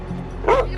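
Dogs on edge at an abandoned drug den in Mexico let out a short yelping bark with a whimpering tone, fairly close against a low background rumble.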